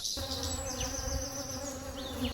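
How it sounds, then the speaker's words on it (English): A bee buzzes close by on a flower with a steady droning hum that shifts slightly in pitch as it moves, over a quiet outdoor background. "when you get closer, you feel the bee on the flower"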